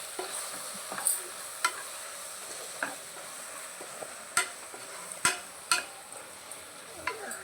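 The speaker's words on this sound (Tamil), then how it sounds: "போட்டு நல்லா வதக்குங்க." Vegetables for veg biryani sauté in a pan with a low, steady sizzle, punctuated by a series of sharp clinks and scrapes from a spoon stirring against the metal; close and fairly quiet, no speech.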